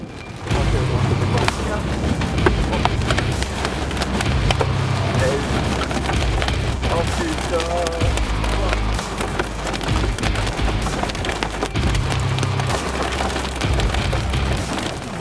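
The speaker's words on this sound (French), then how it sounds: "on commence à entendre les premiers impacts de grêle sur la gauche de la voiture" Hailstones strike the left side of a car being driven during a storm chase in Tornado Alley, a dense, continuous clatter of sharp impacts under a steady low rumble.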